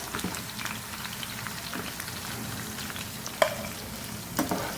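Okra fries in oil on a medium flame, a steady low crackling sizzle with soft stirring scrapes and a couple of sharper clicks, close and continuous without talk.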